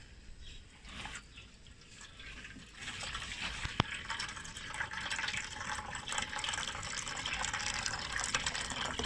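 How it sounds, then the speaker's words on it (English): Water pours steadily into a hot pan, a rushing splash that swells and grows louder over several seconds, with a sharp click partway through. "I'm just going to pour in some water in a hot pan."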